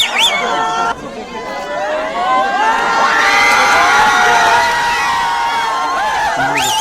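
A large protesting crowd fills the streets of Kathmandu, Nepal, with continuous loud shouting, cheering and chanting that swells and sustains throughout, many voices overlapping up close.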